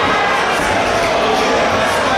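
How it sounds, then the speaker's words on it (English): A wrestling crowd in Portland, Maine cheers and shouts in a dense, continuous roar that fills the space, loud and close, with no single voice standing out. "Listen to this crowd."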